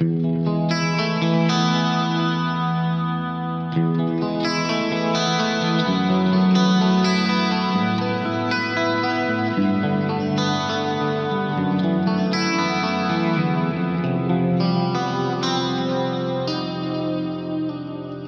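Clean electric guitar notes ringing out with layered repeating echoes and wide reverb, sustained chords blending into a spacious, shimmering wash.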